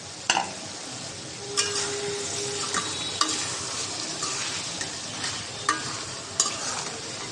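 Pumpkin frying in a pan with a constant hiss of oil, broken by a few sharp scrapes and taps of a spatula against the pan, no talk.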